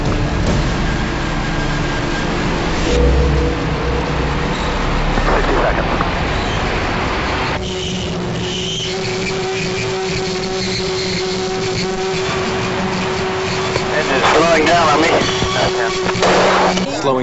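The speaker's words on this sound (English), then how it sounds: "the rocket motor wails" A launching rocket motor roars and strains against gravity, a loud, steady broadband rumble with shifting tonal whines throughout, under intermittent radio chatter from the crew.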